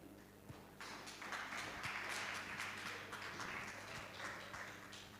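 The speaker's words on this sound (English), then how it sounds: "I thank you for that applaud" An audience at a Jamaican public engagement and culture celebration breaks into applause, dense sustained clapping swelling after a quiet start and holding steady, filling the room.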